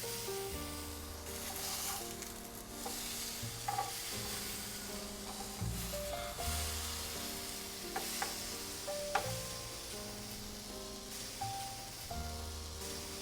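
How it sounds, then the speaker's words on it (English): Berbere-spiced plantain slices lined up on a hot grill with minimal oil, hissing in a steady, dense sizzle that runs throughout, with a few faint clicks and taps over it. "So you wanna hit a nice sizzle."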